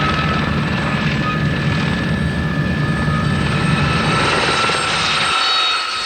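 Royal Navy display team helicopters flying overhead in formation, a loud continuous rotor and turbine drone with steady whine that holds throughout, then briefly eases near the end.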